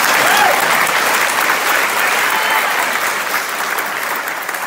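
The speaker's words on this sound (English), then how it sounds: "Go ahead, you can clap." A school audience applauds at a fifth grade moving-up ceremony, a dense steady wash of many hands clapping at once that holds loud for several seconds and then thins slightly toward the end.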